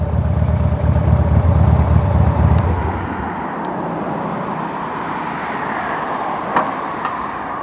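Idling of a 2007 Harley Davidson Street Bob motorcycle: a deep, steady engine rumble that fades to a lighter, even idle after a few seconds, heard without any talking.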